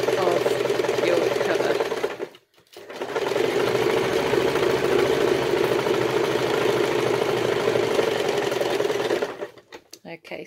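Sewing machine stitching a laptop cover, a loud continuous close whirr in two long runs separated by a short stop, ending with a few brief bursts, with speech nearby.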